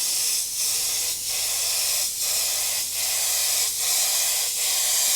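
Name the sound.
airbrush spraying paint onto a soccer ball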